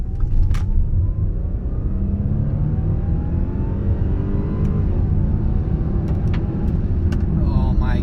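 An Audi 3.0T car fitted with a new intake accelerates hard, its engine note rising steadily under a continuous low rumble heard from inside, with a voice speaking over it.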